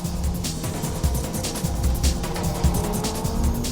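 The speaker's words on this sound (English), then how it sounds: "Orito's Lancer takes the uphill" A Mitsubishi Lancer race car climbs uphill in a motoring shootout, its engine roaring loud and close with steady revving, tire noise and faint squeal running throughout.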